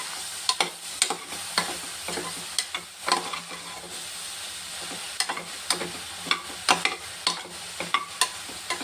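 Masala frying on a low flame in a pan, with a soft continuous sizzle and frequent quick scraping stirs, close and steady and fairly quiet, with no voices.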